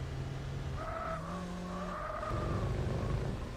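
Race car engine whining through gear changes in Gran Turismo 4 Spec II, joined by tire skid squealing through a hairpin turn, loud and continuous with no talk.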